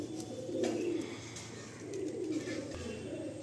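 A Fulsira pigeon coos softly in low, throaty rolls while being handled indoors at a loft, faint and close, repeating in short bursts against a quiet background.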